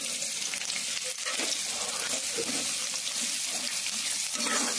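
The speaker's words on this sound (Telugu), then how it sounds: "ఇప్పుడు ఆయిల్లో ఆనియన్స్ వేసుకుంటున్నాము" Chopped onions frying in hot oil for a prawn curry, a dense steady sizzle with occasional stirring scrapes, close and continuous throughout.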